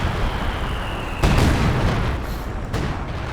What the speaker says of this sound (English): Was there a fake barrage by the Major?